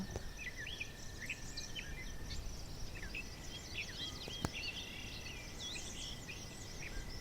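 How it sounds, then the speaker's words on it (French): Birds chirp and twitter in scattered short calls over a soft, constant hum of insects. The whole scene is quiet and distant. "Il y a plein d'oiseaux qui vous entourent."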